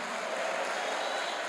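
Church congregation at a Baptist communion service clapping together, a steady, dense wash of applause that holds at even volume for a brief moment.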